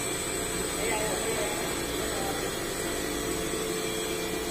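A running ice cream freezer machine makes a steady, even mechanical whir and hum, continuous and close, with a faint tonal whine on top.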